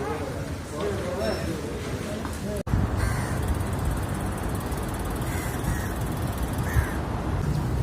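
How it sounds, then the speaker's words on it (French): Crows cawing outdoors in Kuala Lumpur ahead of rain, several calls ringing out over steady background noise and ongoing talk, with a brief cut partway through. "Même les corbeaux, ils ont faim."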